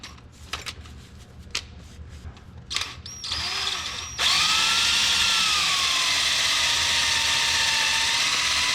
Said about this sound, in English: Now it's time for the left-handed drill bit.